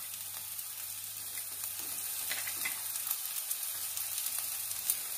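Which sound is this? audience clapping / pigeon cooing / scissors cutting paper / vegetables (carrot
vegetables (carrot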